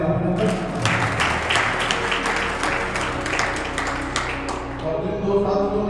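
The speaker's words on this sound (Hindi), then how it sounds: "तो मातृशक्ति की जोरदार तालियां अभिनंदन।" Enthusiastic applause from a crowd at a marathon event fills the clip, steady and loud throughout, with a voice speaking in Hindi over the clapping.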